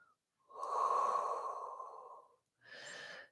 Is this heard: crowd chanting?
no